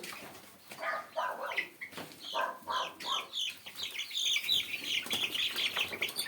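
Month-old chicks cheep in a busy, overlapping chorus of high peeps, close by and fairly loud, growing denser toward the end.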